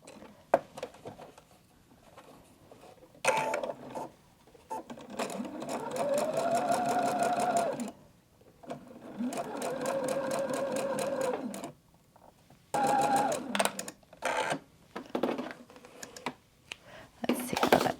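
A sewing machine stitches a quarter-inch quilt seam in bursts of rapid, steady whirring, separated by brief pauses, close and clear with no talking.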